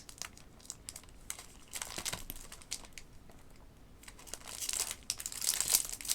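Plastic wrap is crinkled and peeled off a small sketchbook with a pearlescent white cover, giving a continuous faint rustling crackle with sharper crinkles, close by and without talk.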